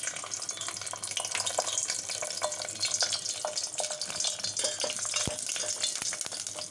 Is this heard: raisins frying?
yes